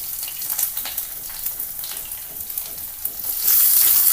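Mustard seeds, cumin and garlic fry in hot oil for an onion kuzhambu, giving a steady close crackling sizzle with scattered pops that swells louder near the end.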